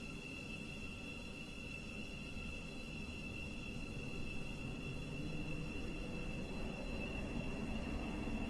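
A train in the Roblox game Stepford County Railway rumbles steadily with a high, thin whine held over the low roar of the wheels, and no voices.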